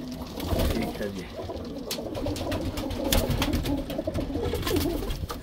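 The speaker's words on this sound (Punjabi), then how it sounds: "ਇਹ ਜੀ ਆਪਣੇ ਜਿਹੜੇ ਮੇਨ ਕਬੂਤਰ ਨੇ ਠੀਕ ਹੈ ਜੀ ਮੇਰੇ ਫੇਵਰੇਟ ਜਿਹੜੇ ਨੇ" Golden and Sialkoti breed pigeons coo in a loft in the UK, a continuous soft, throaty cooing from several birds at close range, with rustling and other bird sounds mixed in.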